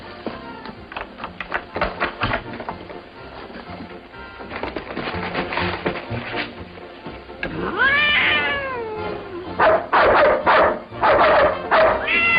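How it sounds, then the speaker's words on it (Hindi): Several dogs bark and yip loudly in a film scene, the barking rising into a dense burst of excited yelps toward the end, with a cat-like whine mixed in and no clear speech. "अरे कुत्तों, ये तुम्हारा खाना नहीं है।"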